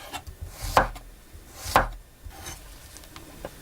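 Large garlic cloves, about 50 g, sliced thinly with a knife on a board: two crisp, close chopping clacks about a second apart, then lighter scraping and a faint tap, with no voice.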